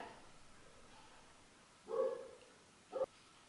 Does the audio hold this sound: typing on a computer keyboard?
no